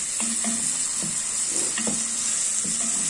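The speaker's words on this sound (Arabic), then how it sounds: "نشوح البصل كده لحد ما يدبل، وننزل عليه باللحمه ناخدها تشويحه كده" Onions and meat sautéing in a pan, a loud, constant sizzle with periodic scrapes and clinks from the utensil turning the food every half second or so, close and uninterrupted.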